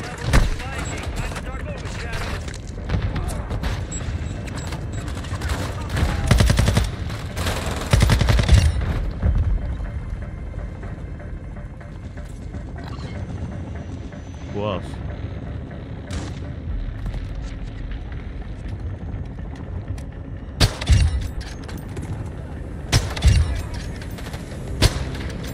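Gunfire in the Call of Duty: Modern Warfare III Shadow Siege reveal event: bursts of shots and booms, heaviest early and again near the end, with a steady battle rumble and a player talking over it.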